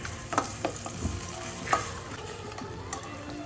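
Ground onion paste sautéing in a pan for a vegetarian meal, a soft constant sizzle with a few light stirring scrapes early on, fairly quiet and without speech.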